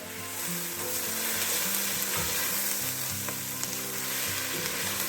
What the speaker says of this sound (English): I'm going to turn the heat down and just let these cook a bit slower. Just let the onions soften a little bit.